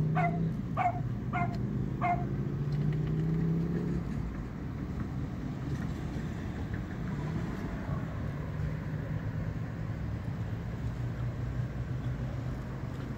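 Dog barking four quick sharp times at the start over a steady car engine drone, after which the engine hum continues alone.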